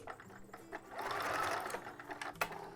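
A sewing machine runs a zigzag stitch through the lining of a lace sports bra, a steady close mechanical whir of about two seconds with a rapid needle rhythm and no talking.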